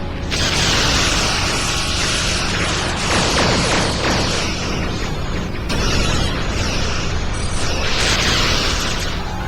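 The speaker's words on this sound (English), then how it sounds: "All weapons, fire at will." Continuous barrage of starship weapons fire from classic Star Trek, dense crackling bursts and booming impacts filling the whole stretch at steady high loudness, with no voices.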